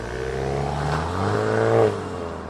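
A 2023 VW Jetta GLI's 2-liter turbocharged petrol engine revs up and swells to a peak before easing back, a steady exhaust drone throughout with no talking.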